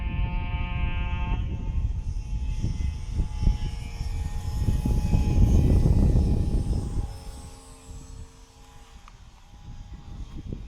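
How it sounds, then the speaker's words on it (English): F5J electric model gliders passing low overhead at launch during a competition, a steady motor whine swelling and fading against outdoor background noise, with faint animal bleats. "with planes flying over me on start"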